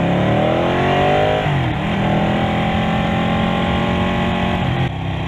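A 2018 Ducati Panigale 899 engine pulls hard and loud from close by, its revs climbing steadily, dipping briefly at a shift, then climbing again in a raw, continuous roar.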